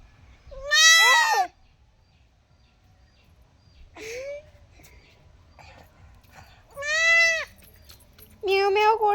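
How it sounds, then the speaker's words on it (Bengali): A goat bleats in a few separate, fairly loud calls spread over several seconds, with quiet gaps between them and a faint low background hum. "ये छागल है"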